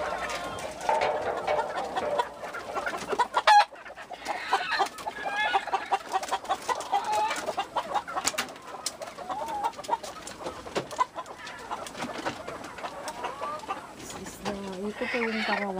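A flock of chickens cluck and chatter continuously in a free-range area of a farm with a hatching and laying area, with a rooster crowing and people talking in the background.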